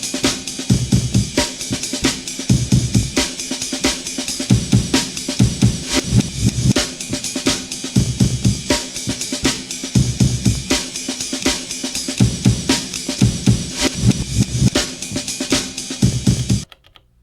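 A drum break chopped on an Elektron Digitakt sampler, with some slices played in reverse, loops as a loud, dense, steady groove of punchy kicks and snares with swelling reversed hits, and no talking.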